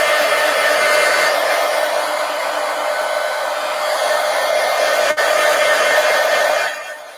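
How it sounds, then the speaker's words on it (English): A heat gun blasts hot air over wet paint on a collage poster, a steady loud broadband whoosh lasting several seconds with a brief dip near the end before it winds down. "Let's hit it with the heat gun so I can pick it up."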